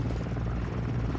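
The Overwatch helicopter in Call of Duty: Modern Warfare II gives a loud, continuous rotor chop and engine roar, close and steady for just over a second.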